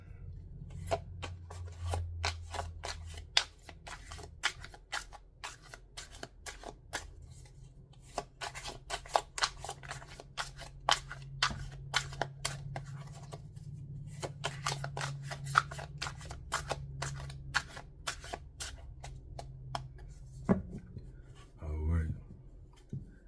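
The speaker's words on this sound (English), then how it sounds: "I like doing a 18 count shuffle" Tarot cards being shuffled repeatedly, with rapid riffling and slapping sounds in steady bursts, close up, with faint background noise.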